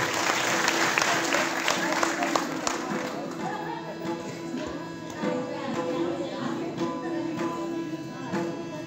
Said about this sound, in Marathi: टाळी वाजवल्या कलाकारांच्या.